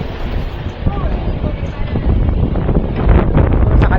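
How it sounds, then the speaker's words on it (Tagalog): Strong northeast monsoon wind, the amihan, near the sea, rushing and gusting loudly against the microphone and building stronger toward the end, with a voice briefly heard in the background. "kaya napakahangin"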